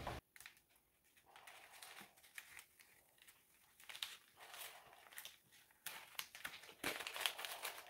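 Paper crinkles and rustles in soft, irregular bursts, with crisp tearing and peeling sounds up close in an otherwise quiet room, as paper is pulled off a spray-painted artwork.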